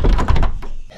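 A door in the horror video game Poppy Playtime thunks open in a dark room, a dull close knock followed by a short fading creak, with no talk over it.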